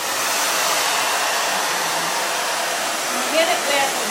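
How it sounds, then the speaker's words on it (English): A hair dryer on a warm setting blows over chalk paste on a board, a loud, steady airy whir that holds constant before a brief wobble near the end. "get it with a warm dryer"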